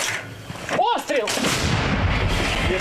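Ukrainian artillery firing on a Russian tank lets off a single loud, booming shot outdoors. A rolling rumble follows and lasts to the end, with a voice briefly overlapping.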